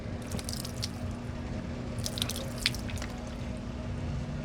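Water drips and patters onto freshly treated plastic car trim during a water-repellency test, a few soft scattered droplet taps clustered near the middle over a low steady background hum.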